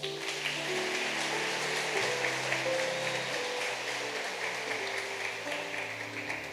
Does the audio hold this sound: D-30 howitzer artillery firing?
no